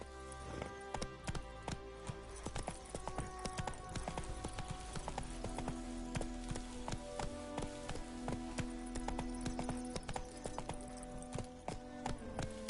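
Roach, the horse in The Witcher 3, galloping with rapid, rhythmic hoofbeats close by, continuous over a faint patter like rain, while soft music plays behind.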